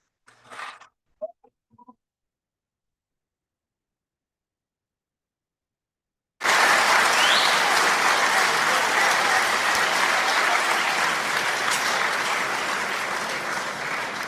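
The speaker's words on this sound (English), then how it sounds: "let me give you that round of applause again." A played-back applause sound effect of a large clapping crowd bursts in abruptly after a few faint small noises and long silence, then holds steady and loud, slowly easing toward the end.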